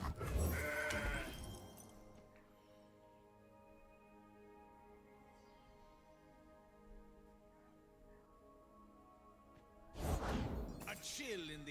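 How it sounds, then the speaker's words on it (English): A goat card bleats as it is played in the Legends of Runeterra digital card game, with bursts of effect sound at the start and end over steady game music, and some talk nearby. "I think I'm just playing a goat here to start."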